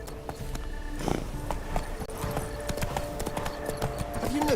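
Hooves clip-clop steadily in a video game, a continuous rhythmic trot sitting over a busy game soundscape, with a brief louder burst partway through and no speech.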